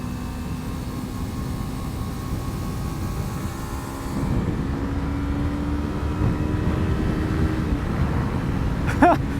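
Yamaha R3 motorcycle engine pulling uphill after a downshift, a steady loud drone with a rising tone, strong low rumble and wind noise throughout, a brief sharp spike near the end.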